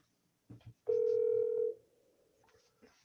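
A single electronic telephone ring tone on speakerphone sounds clearly for under a second, with faint clicks and a brief voice-like murmur around it.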